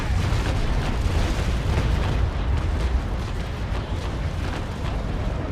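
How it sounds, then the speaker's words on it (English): A broadside of carronade cannons firing aboard a sailing warship in the naval combat game Naval Action, heard as a sustained, loud, rumbling roar of overlapping booms that fills the whole moment without a break. "Now, lowering the carronades, getting ready, and fire!"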